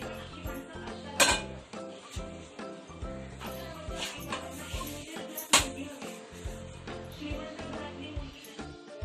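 Kitchen clatter of metal cookware as an iron griddle is set on the stove, with two sharp clanks standing out among softer knocks and scrapes, close by.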